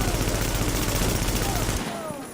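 Rapid, sustained automatic gunfire in The Division's Dark Zone, a dense loud burst that stops abruptly after about two seconds, leaving a fading tail.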